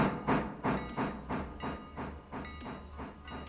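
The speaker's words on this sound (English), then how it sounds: "I can go ahead and dispatch the log train" Log train rolling along in the Railroader simulation, a steady rumbling chug with regular rhythmic pulses about every half second and a hissy top, moderately loud with no voices.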